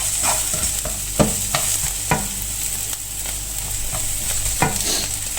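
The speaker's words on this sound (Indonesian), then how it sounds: "Aku tumisin bawangnya dulu." Onions sizzle in hot oil in a frying pan as the base for homemade fried rice. A steady crackle runs throughout, with periodic scrapes and clinks from a utensil stirring the pan.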